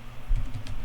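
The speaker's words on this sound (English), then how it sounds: "So all we gotta do is type in" A command being typed on a computer keyboard: a short, close burst of quick, light key clicks in an uneven rhythm, with no voices.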